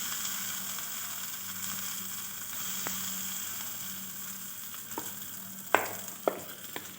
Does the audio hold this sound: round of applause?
no